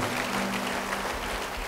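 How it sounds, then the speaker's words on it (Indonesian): Church congregation applauding together, a steady dense patter of clapping that fills the space without pause. "Yang percaya beri tepuk tangan bagi Dia."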